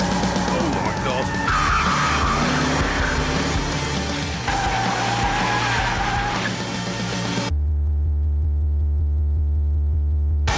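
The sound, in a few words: car power sliding sideways with tire skid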